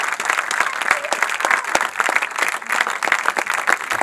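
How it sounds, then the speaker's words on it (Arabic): Warm burst of audience applause after a Moroccan film screening, many hands clapping steadily and densely for a few seconds, close and lively. "هذا اللي تيصفق"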